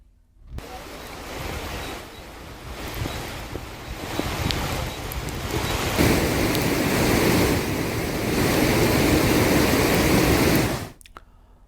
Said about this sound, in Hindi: देहरादून के कई इलाकों में जबरदस्त बारिश हो रही है।